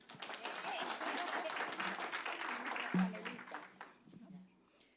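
An audience applauds at a talk on women's participation in the labor union movement; dense, steady clapping fills most of the clip before tapering off near the end.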